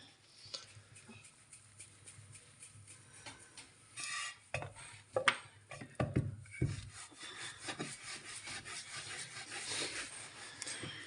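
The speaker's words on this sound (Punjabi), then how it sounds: "ਹੁਣ ਆਪਾਂ ਦੂਜੀ ਰੋਟੀ ਨੂੰ ਵੇਲ ਲੈਨੇ ਆ" A rolling pin working a second roti of dough for a mixed paratha, with soft irregular rubbing and wooden knocks and scrapes that grow busier partway through, near and fairly quiet, with no talking.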